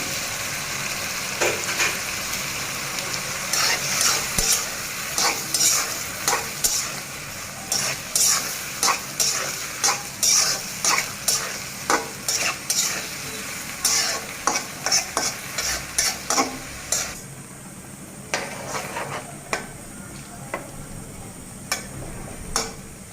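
Potatoes fry in a pan while being stirred, with a continuous sizzle and a regular series of scraping spatula strokes for most of the time, easing off near the end.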